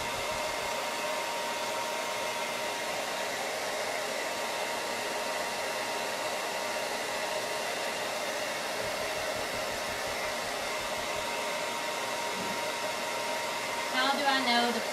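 A hair dryer blows steadily and close up for the whole stretch, drying paint on a hand-painted ghost door hanger, with a slight change in the airflow near the end.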